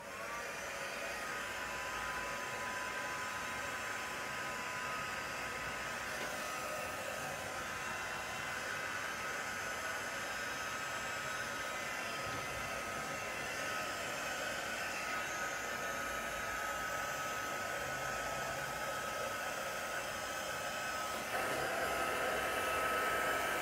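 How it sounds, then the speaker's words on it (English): A heat gun blows hot air over alcohol ink on art tags, giving a loud, close, steady whooshing hiss that runs unbroken throughout with no talking. "So this time I'm going to use my heat gun to move it around."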